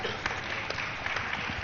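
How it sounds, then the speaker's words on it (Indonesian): An audience at an academic forum claps together, giving a brief, dense, steady patter of applause with no clear gaps. "Kita berikan aplaus kepada beliau."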